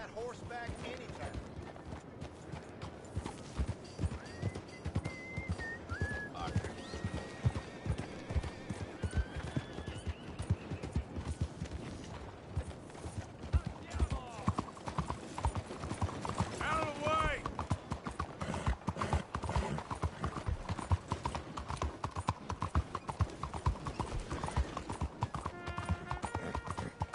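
Horse hooves clip-clopping steadily in the Red Dead video game, with occasional whinnies, under game music and character dialogue throughout.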